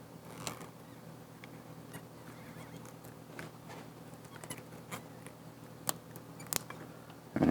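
Cutters snip through a rubber door weatherstrip seal on a 2002-2008 Dodge Ram pickup, giving scattered sharp clicks and crunches against a faint background hum, with one louder snap near the end.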